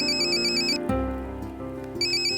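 A mobile phone ringing with an incoming call, a loud, steady electronic melodic ringtone that continues throughout with a brief lower tonal shift in the middle, and no voices.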